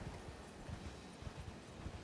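Horse hooves clip-clopping in Elden Ring, a rider approaching in an open area, soft irregular thuds of hooves under light wind noise with no talking.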